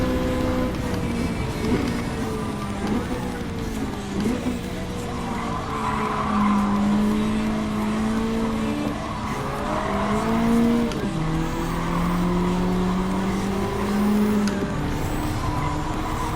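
A race car fitted with an air filter and racing exhaust in Gran Turismo 7 skids with sustained squealing tires over a steady engine roar, pitch sliding up and down as it slides through corners, continuous and loud.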